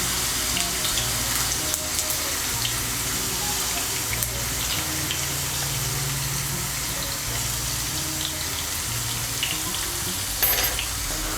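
Potato pieces sizzle loudly in hot oil with salt and turmeric for Bengali aloo potoler dalna, a steady close crackle lasting the whole time with occasional scraping, and no talk.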